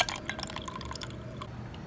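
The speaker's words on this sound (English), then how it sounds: "Then pour the rose milk mixture into the glass." Rose milk mixture poured into a glass over an ice cube for a watermelon drink, a steady close liquid trickle with small drips and splashes, faint and continuous for a couple of seconds with no talking.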